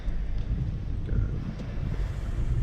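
Blacklick Creek running high with floodwater after Hurricane Ida in Cambria County, Pennsylvania, a loud continuous rushing roar dominated by low rumble, with wind buffeting the microphone and no talking.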